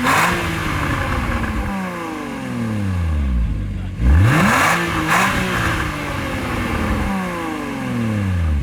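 A 2016 Porsche Cayman GTS engine revs repeatedly, several rising and falling sweeps close by with a sharp burst near the middle, and a voice is heard faintly in the background.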